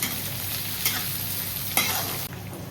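Onions frying on a cast iron tawa for masala dosa, cooked only until the rawness goes: a loud, continuous close sizzle with a couple of brief stirring scrapes, no voices.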